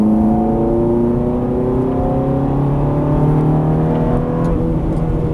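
Ferrari 430 on a race track, its engine droning loud and close with rising and falling harmonic tones as it accelerates and shifts, continuous throughout.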